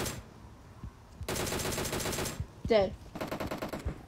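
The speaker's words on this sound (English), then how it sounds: "Gunshots back there." Rapid automatic gunfire in the mobile battle royale game PUBG Mobile rattles out in several sustained bursts, loud and close, with brief game effects between them and a player's voice speaking a word.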